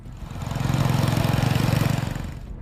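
A John Deere 110 mini lawn tractor engine gives a brief, steady motor drone that swells louder in the middle and then fades.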